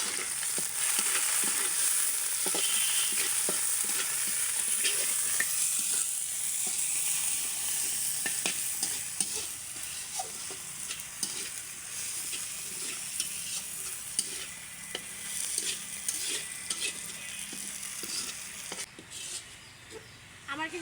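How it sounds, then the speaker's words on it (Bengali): Garlic, onion, green chilies and coriander leaves fry in a pan with a constant soft sizzle, punctuated by regular spatula stirs and scrapes over about twenty seconds. "রসুন পেঁয়াজ কাঁচামরিচটা ভাজা হয়ে গেছে"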